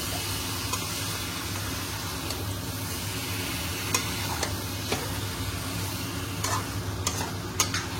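Marinated chicken leg pieces sizzle in a hot pan while being stirred, with a continuous loud frying hiss and scattered sharp scrapes and clicks of the utensil throughout.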